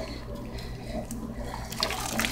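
A bird carcass dunked and swished in a pot of water to soak its feathers, a murky continuous sloshing and gurgling with low background hum, nobody talking.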